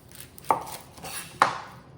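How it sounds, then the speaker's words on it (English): A knife chops through the ends of an onion on a cutting board, two crisp, separate thunks about a second apart in a quiet kitchen. "Cutting an onion, we're going to come in, cut the ends off"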